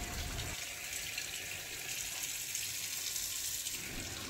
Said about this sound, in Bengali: এখন মূলোগুলো ধুয়ে নেব।